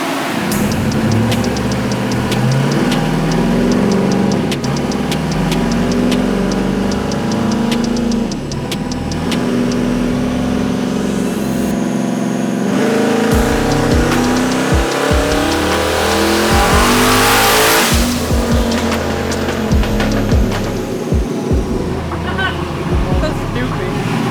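A tuned 4x4 on a dyno, its engine revving hard through short pulls, loud and close, climbing in pitch to a screaming peak before dropping back, with voices talking over it.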